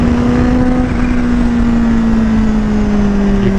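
A Kawasaki Ninja H2 motorcycle engine held high against its rev limiter around 14,000 rpm, a loud, steady buzzing whine sustained close by with no talk.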